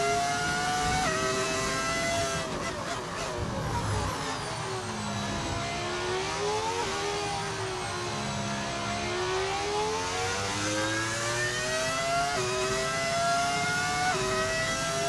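A V10 Formula One race car engine from the F1 25 racing game with a sound mod, screaming loud and continuous, its pitch rising through gears and dipping and surging as the car brakes and accelerates on track.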